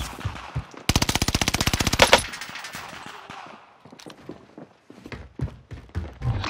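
Video game combat gunfire in a military-style shooter: a loud burst of rapid automatic fire lasting over a second, followed by scattered thuds and single distant shots.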